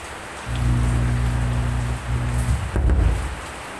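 Rain falls with a steady hiss under a low droning hum, with a brief louder rustle near the end.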